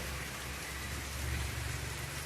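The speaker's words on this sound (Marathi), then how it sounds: "आज जरा जास्तच मोठा पाऊस आहे" Rain falls in a constant, even hiss that stays fairly soft and unbroken, with nobody speaking.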